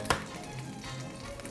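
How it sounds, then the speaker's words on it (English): Butter for an omelet sizzles softly in a hot pan, a steady crackling hiss with one brief clink near the start. "you can hear that butter sizzling"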